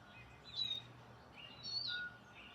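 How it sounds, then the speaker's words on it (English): Small forest songbirds give sharp, agitated warning calls at a pygmy owl, two short high bursts of chirps a second apart, faint over a quiet woodland background. "Agitated songbirds sound a warning."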